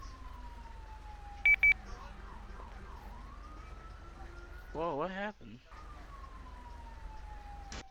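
Ambulance siren in a roleplay video game, a steady wailing tone sweeping slowly across the clip at moderate distance, with people talking over it and brief sharp tones and a vocal exclamation midway.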